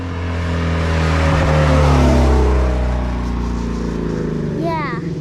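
A loud Ford Mustang, a 2019 Shelby GT350, revs and roars as it approaches, the engine note swelling to a peak and holding, with people talking over it.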